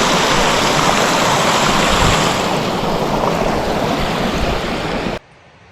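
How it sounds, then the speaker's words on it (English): Creek water rushing in a Montana meadow area, a close, loud and steady broadband flow that holds constant before cutting off abruptly near the end. "I crossed the creek down there."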